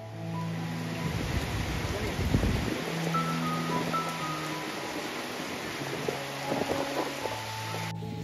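Strong wind roars over a rough sea on a rainy, stormy day at Cox's Bazar, a steady broadband rush with surf mixed in, continuous and fairly loud throughout.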